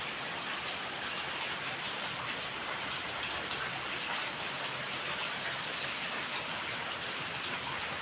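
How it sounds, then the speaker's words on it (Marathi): Heavy rain pouring steadily in a village, a dense, even hiss of drops on surfaces that stays loud and unbroken throughout with no voices. "तर गाईज, पाऊस बघा किती पडतोय."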